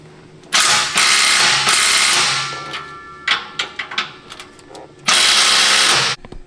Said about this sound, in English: I'm basically just tightening these clamps and hoping that goes away